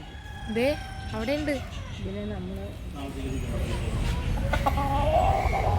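Roosters and hens crow and cluck repeatedly around the Karthyayani temple grounds in Cherthala, Kerala. The calls rise and fall in several close, overlapping bursts over a steady, noisy outdoor background.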